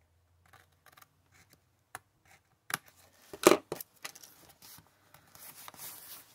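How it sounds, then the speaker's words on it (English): Scissors snip through paper pieces for a kaleidoscope journal in a few short, crisp cuts with small rustles and handling noises between, close by and without talk. "And I'm going to go in there with my scissors."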